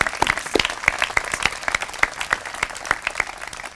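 Scattered audience applause at a homecoming brunch, individual claps distinct and irregular, fairly close and moderate in level, a modest crowd clapping without talk.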